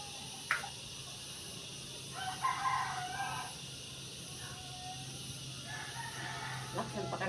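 A rooster crows a few times at moderate distance outdoors, faint against a steady background hum and insect noise.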